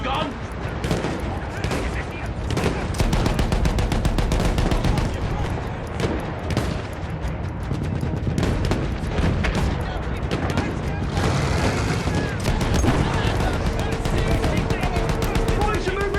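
Sustained automatic gunfire and artillery booms from a war video game running as a PC benchmark, loud and dense throughout with overlapping bursts and explosions, while voices shout over the din.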